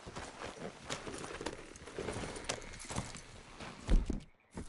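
Horse hooves walking in a steady clip-clop under outdoor ambience, with brief muffled voices and a louder thump near the end.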